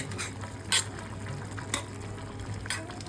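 Vegetarian poppy seed fritter curry, posto bora with ghee, green chilies and roasted garam masala, simmers in a pan with a soft continuous bubbling hiss broken by a few brief louder pops.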